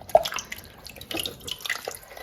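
Water drips and trickles from a cross stitch kit being lifted out of a washing bath, a few distinct close drops followed by soft splashing and light sloshing.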